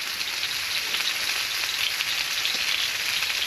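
Steak fries in a pan inside a hot tent while camping at minus five degrees, giving a steady, close, even sizzle with no break and no talking.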